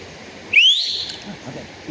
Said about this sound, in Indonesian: sebentar ada suitan nyaring sekali